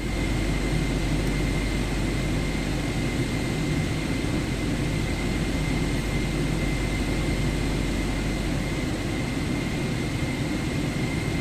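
Jet airliner engines idle steadily after start in the MSFS 2024 flight simulator, a constant loud broadband roar with a faint high whine, alone without voices throughout.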